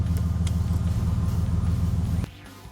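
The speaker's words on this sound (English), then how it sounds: "I'm going to attempt to lift the car up with the air suspension and turn the wheel" The air suspension compressor on a Bentley hums steadily as it raises the car: a close, buzzing drone that runs for about two seconds, then cuts off abruptly, leaving a quieter background hiss.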